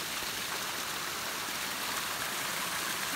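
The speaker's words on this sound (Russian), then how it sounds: "И такой маленький водопад." Small waterfall and stream beside a mountain trail in the Sudetes near Praděd, a dense continuous rush of splashing water that stays loud and close, with no voices.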